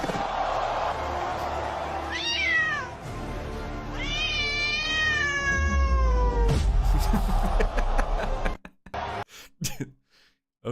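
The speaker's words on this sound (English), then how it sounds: "Or the cat fighting the rock." Cat in an AI-generated clip meowing and caterwauling in rising, wavering yowls, loud and close, with coughing and throat-clearing sounds mixed in before the sound cuts out near the end.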